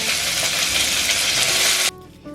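Cauliflower fries in a hot pan with a loud, steady, hissing sizzle that cuts off abruptly near the end, leaving a faint low hum.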